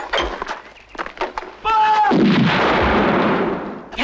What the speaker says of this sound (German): Die richten die Kanone direkt aufs Schloss.